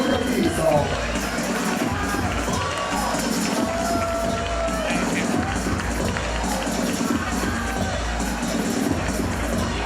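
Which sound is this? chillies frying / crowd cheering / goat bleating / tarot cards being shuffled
crowd cheering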